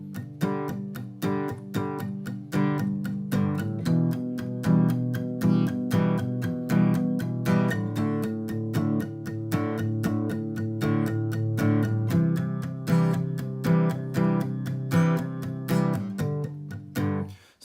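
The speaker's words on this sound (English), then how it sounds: "So that's the intro, and as you can hear, I'm palm muting some of the strings." An acoustic guitar plays the intro to a song in steady rhythmic strums, with palm-muted strings giving short, damped chord hits that sound close and clear, and no talking.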